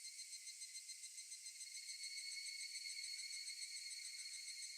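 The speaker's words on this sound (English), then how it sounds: "Only the cry of the cicadas remained" Cicadas in the Higurashi visual novel drone steadily and loudly, a continuous shrill buzzing chorus that holds without pause and swells slightly toward the end, with no voices over it.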